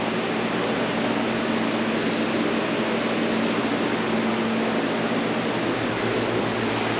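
A Modine gas shop heater in a barn runs with a steady, dense, close whoosh of burner and fan, unbroken and even throughout with no voices.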